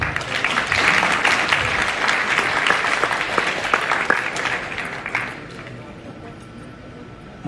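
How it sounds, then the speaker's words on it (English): Applause from an audience at a first-anniversary company celebration, honouring all mothers: dense, loud clapping with some crowd noise that fades out after about five seconds, leaving quiet room tone. "I want big clap for all the mothers in the world."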